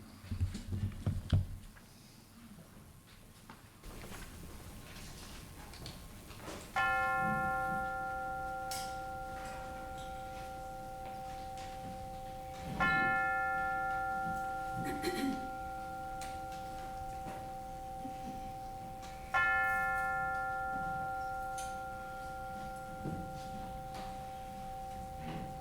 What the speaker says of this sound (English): let us center our hearts and minds with the ringing of the chime